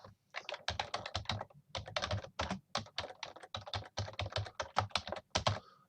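Rapid bursts of keystrokes on a computer keyboard while a search is entered, close and crisp, in steady runs with a few short pauses, no talking.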